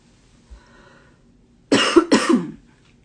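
Two quick, close coughs in a row after near silence.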